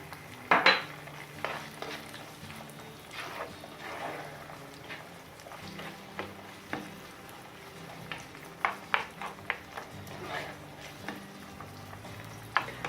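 Artichokes sautéing in a pot for a Turkish olive-oil artichoke dish, with a soft sizzle underneath and scattered clinks and scrapes of a spoon stirring against the pot, fairly quiet and without speech.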